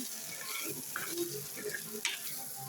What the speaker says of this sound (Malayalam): ഇത് നമുക്കൊന്ന് നല്ലോണം ഇളക്കി കൊടുക്കാം